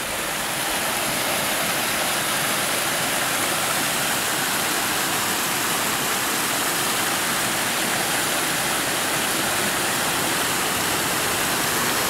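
A mountain creek rushes steadily over rocks, a dense, even roar of flowing water running close and loud for the whole stretch with no voices.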